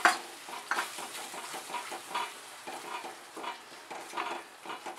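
Two spoonfuls of tangy homemade curd are stirred into okra in a pan over low heat, with a soft sizzle under rhythmic, repeated spoon strokes scraping the pan bottom. No one speaks.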